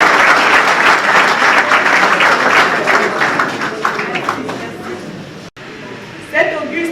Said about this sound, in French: qu'on lui donne notre signe de reconnaissance par des applaudissements